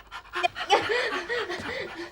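A woman in labour stuck in a lift pants in quick, breathy, rhythmic gasps close up, strained and uneven, with a few voiced catches between breaths.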